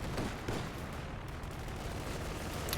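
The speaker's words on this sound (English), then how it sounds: "Sniper opens up on the center" Dense battlefield gunfire in Company of Heroes 2 during a 4v4 match, with a sniper rifle among the shots, a steady wash of distant fire and a few sharper cracks standing out faintly.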